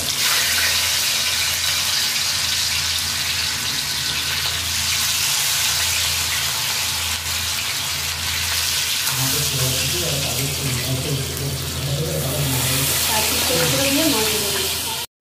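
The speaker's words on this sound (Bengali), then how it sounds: "মাছ ভেজে নেবো" Fish sizzles in hot mustard oil in a wok, a loud continuous hiss with crackling that grows busier and spattering toward the end, with no one speaking over it.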